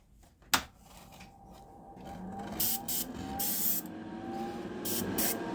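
An airbrush sprays colour-shift paint lightly onto a spoon in short, soft hissing bursts, a faint click near the start, then repeated spray pulses over quiet background.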